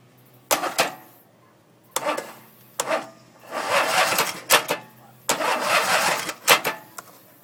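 An engine fitted with mismatched spark plugs is cranked by its starter in several separate bursts, each a close, whirring churn lasting up to a second or so, with short pauses between them and no catch.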